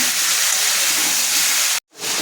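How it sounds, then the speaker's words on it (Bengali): Chicken fries in a pan with a loud, even sizzle that stops abruptly for a moment and then resumes. "চিকেনটা কিন্তু আমি 3 থেকে 4 মিনিট পর্যন্ত ভেজে নেব।"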